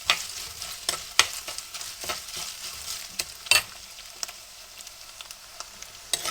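Chili powder frying in a smoking hot pan and being stirred, a steady hiss of sizzling oil with repeated scraping and tapping strokes of the utensil close by, no one talking.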